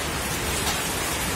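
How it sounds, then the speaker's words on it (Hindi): Heavy rain pours steadily outdoors after a fire has been put out, a dense, even hiss of drops close by with no breaks and no talking. "जैसे जैसे बारिश तेज हो रही है"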